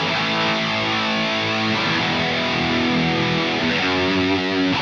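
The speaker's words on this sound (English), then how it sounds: "Here's an 80s shimmer drive preset designed for epic 1980s riffing, high gain amps, noise gates" Heavily distorted high-gain electric guitar chords from a Positive Grid Spark 2 practice amp ring out loud and sustained, with bright, spacious plate-reverb shimmer and abrupt noise-gate cutoffs between 1980s-style riffs.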